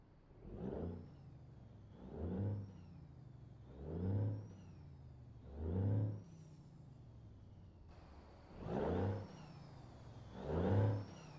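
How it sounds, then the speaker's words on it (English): Simulated truck engine in a trucking video game, rising and falling in repeated rev cycles roughly every two seconds, with a whining gear tone above, moderately loud and without talk. "I might have to turn the engine sounds up a little bit because with the Cat and the Peterbilt, they were way too loud"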